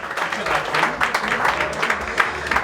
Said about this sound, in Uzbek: Guldiroz qarsaklar aziz do'stlar